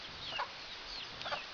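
Chickens give a few soft, faint clucks in two brief bursts against a quiet outdoor background.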